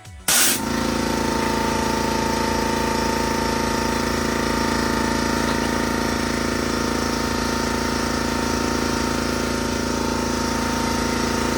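A shop air compressor starts with a sharp kick and then runs as a loud, steady, unbroken mechanical drone, close by, while someone works on an AC compressor replacement on a 2002 GMC Envoy.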